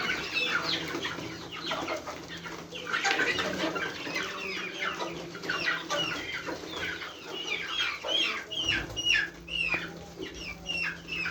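Flock of poultry-farm chickens clucking busily as feed is scattered to them, a dense, continuous chorus of overlapping clucks and chirps close by, with occasional wing flutters.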